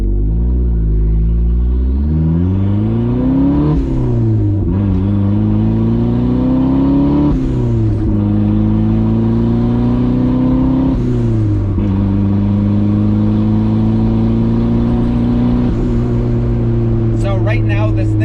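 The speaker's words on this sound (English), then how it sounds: "you could hear the turbo spooling up, the straight pipe sounds good" A car with a custom 2.5-inch straight pipe exhaust and turbo, run rich, driving and accelerating through repeated gear pulls, its loud droning engine note climbing and dropping with each shift, heard close from inside.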